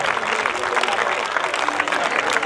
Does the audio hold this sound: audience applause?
yes